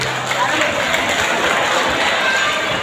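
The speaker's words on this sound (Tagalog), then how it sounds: "Bakit di po natin palakpakan at sabay-sabay hiyawan ang ngalan ni Miss Banks Garcia?" Loud, continuous applause and cheering from a crowd at a gay queen pageant in Tunasan, Philippines, filling the whole stretch as a dense roar with voices mixed in.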